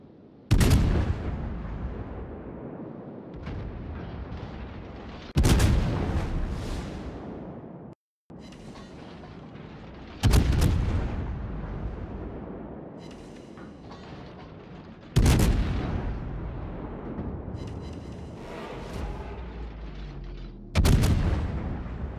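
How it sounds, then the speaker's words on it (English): Naval guns in a video game fire on an enemy warship: five heavy, booming salvos about five seconds apart, each with a long rumbling decay and no talk. "Concentrate fire on the enemy warship."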